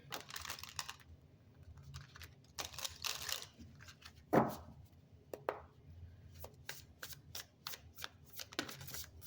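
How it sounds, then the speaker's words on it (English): A tarot card deck is shuffled by hand in a quiet room: repeated short bursts of soft papery riffling and flicking with brief pauses and one sharper slap, close but fairly quiet. "I want to pull this deck. Pull a couple of tarot cards for you,"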